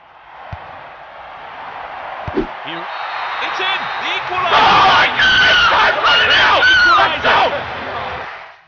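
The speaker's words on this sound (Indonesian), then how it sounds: "Teriak-teriak gak jelas." Players shout and scream wildly in celebration after scoring a goal in a Winning Eleven football game, rising from a few thumps and cries into a loud sustained group yell with overlapping voices.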